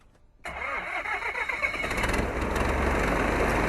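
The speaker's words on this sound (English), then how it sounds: "we're the first to let you see and hear the diesel 182 in action" A Cessna 182 JT-A with an SMA diesel engine cranks and catches after a brief quiet moment, then settles into a loud, steady, rough rumble close by.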